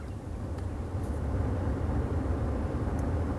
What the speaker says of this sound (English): The fan for the ventilation system is a little bit louder than you might imagine it should be on a Rolls-Royce.